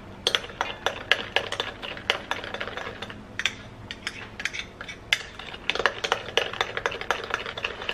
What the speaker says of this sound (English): And then we'll stir and stir very well.